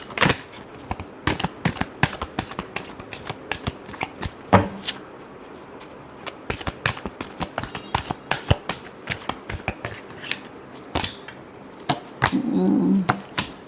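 Tarot cards are shuffled by hand in repeated crisp riffles and slaps, a steady rhythm of sharp close flicking sounds with brief pauses, and a short murmur near the end.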